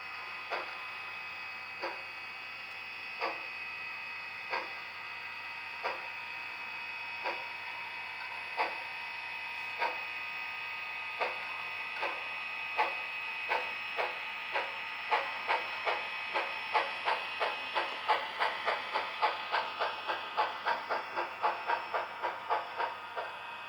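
Athearn Northern #844 model steam locomotive with a Tsunami sound decoder chuffing steadily, the exhaust beats starting slow and spaced, then quickening into a rapid, even rhythm over a constant hiss, close and clear with no talking.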